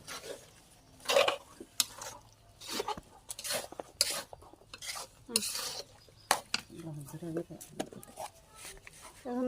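Ground spices stirred into a pot of pickle make scraping and clinking utensil sounds with soft sizzling, in irregular strokes heard under ongoing talk.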